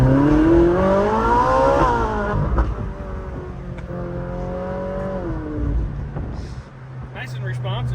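A car engine without a turbo revs up and falls back in quick, responsive bursts, loud and close, with voices talking over the engine.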